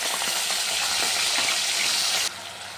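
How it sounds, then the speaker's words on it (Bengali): Green chillies and kalo jeera (nigella seeds) frying in hot oil in a pan give off a loud, steady broadband sizzle with scattered crackles, which drops suddenly near the end, probably as spices go in. "এই দেখো লঙ্কাটা ভাজা হয়ে গেছে,"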